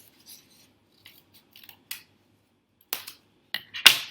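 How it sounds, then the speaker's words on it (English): Scissors snip through a folded sheet of paper to cut a small square from its middle: a few scattered quiet snips build to several sharper, louder cuts near the end, heard alone with no talk. "we're just going to cut a little square out of the inside of it"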